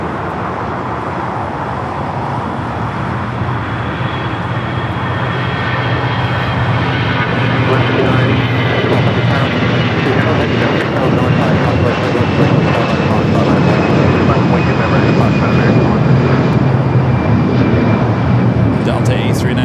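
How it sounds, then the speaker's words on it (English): A Delta Airbus A319 takes off from the south side at LAX. Its loud, swelling jet roar has a high whine that slowly falls in pitch as it builds over about twenty seconds, with someone talking over it. "Delta A319 taking off here on the south side."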